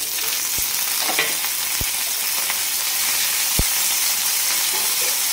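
Green chillies frying in hot oil, a dense steady sizzling hiss close up, with a few sharp low pops or knocks scattered through it.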